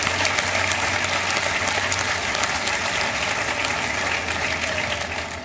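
A live audience at an investor education event applauds steadily and loudly, a dense wash of clapping that holds for several seconds and tapers only slightly toward the end.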